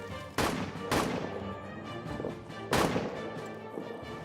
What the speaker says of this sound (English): did you see that artillery?